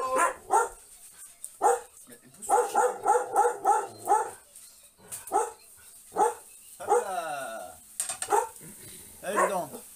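A dog barks repeatedly nearby, a quick run of sharp barks followed by scattered single barks and some whining yelps.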